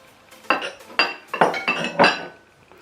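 Ingredients for an eggless vegan lemon drizzle cake go into a mixing bowl: four or five sharp, close clinks and taps of utensils and containers against the bowl at a loose, uneven pace, with no talking.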